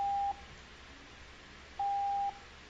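Two short electronic buzzer tones sound during a lecture, a brief first beep followed after a pause by a slightly longer one, steady and moderately loud over a quiet room.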